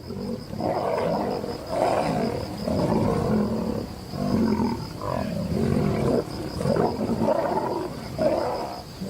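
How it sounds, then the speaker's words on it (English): A lion on the savannah gives a series of deep, loud, rhythmic roars and grunts, repeated in pulses one after another with no talk. "The lion's roar, one of the most iconic sounds of the savannah, carries up to 5 miles"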